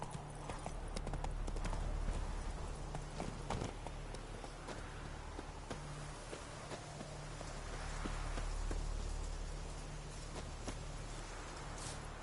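Horse hooves clip-clop steadily in The Witcher 3 video game, a soft, continuous plodding rhythm under a constant background of rain and ambient noise.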